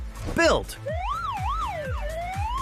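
A toy fire truck siren in an animated build sequence wails in rising and falling sweeps, preceded by a quick rising toy sound and clicks, with a brief spoken word at the start.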